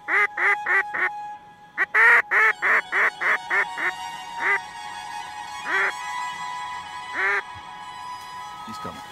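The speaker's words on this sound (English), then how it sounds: "All mallards." Mallard ducks quack in a string of loud, close calls, several quick bursts in a row, then spaced single quacks, over faint background noise.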